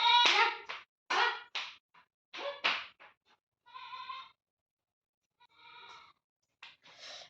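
Young goats bleat in a string of loud, close, wavering cries, several calls in quick succession with short pauses, a couple of quieter ones trailing near the end.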